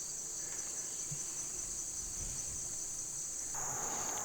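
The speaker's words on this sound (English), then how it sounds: "there's a lot of bees in here somewhere. Their buzzing is pretty echoey in here." Bees buzzing inside an abandoned limestone iron furnace, a steady high insect drone that echoes off the stone walls, continuous and moderately loud with no talking.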